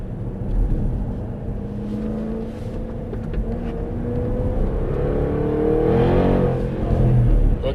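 Jaguar F-Type SVR engine on a race track: a continuous deep, rumbling drone that swells and surges in revs, close and loud, with no voices over it.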